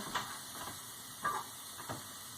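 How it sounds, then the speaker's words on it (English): Meat tossed onto a skillet over low heat for a Philly cheesesteak gives off a very light, faint sizzle, a steady soft hiss with a few brief louder crackles, and no talking. "they're just doing a very light sizzle right now"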